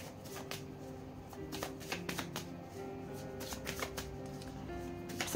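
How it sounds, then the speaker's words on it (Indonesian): A deck of tarot cards is shuffled by hand, giving soft, quiet riffling and flicking with small snaps scattered throughout, close by and without talk. "kita akan shuffle lagi kartunya"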